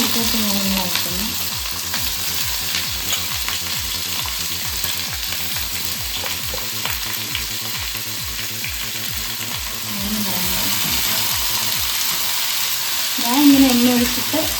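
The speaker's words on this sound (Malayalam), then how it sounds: "ഞാൻ ഇങ്ങനെ എണ്ണ ഒഴിച്ചിട്ട് കടുക് പൊട്ടിച്ച് ഇങ്ങനെ അകക്കണം" Mustard seeds crackle and pop in hot oil for a Kerala-style ivy gourd stir-fry, a dense steady sizzle with rapid sharp pops throughout, close and loud, with a brief stir or clatter near the end.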